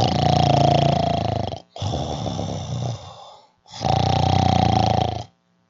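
A voice mimics loud snoring: three long, rasping snores, each ending in a pause, the second with a sputtering breathy exhale, delivered close and forcefully.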